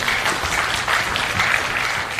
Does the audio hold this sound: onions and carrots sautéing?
no